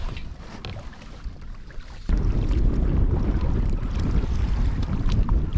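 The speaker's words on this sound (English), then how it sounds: "We have quite a strong northern wind coming in today, which is making it nice and cool though." Strong northern wind blowing while canoeing in Glaskogen National Park, Sweden: steady low roaring gusts buffet the microphone outdoors on the water, swelling louder partway through and staying constant.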